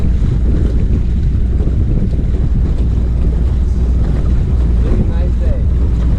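Boat outboard motor running on open water after an engine swap, a loud continuous drone mixed with heavy wind buffeting the microphone and splashing water, with occasional voices faintly underneath.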